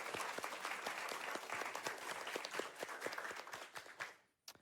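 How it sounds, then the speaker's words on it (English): A crowd at a games event finale applauding with dense, steady clapping that fades near the end, leaving a moment of quiet before a final burst. "Round of applause for content team."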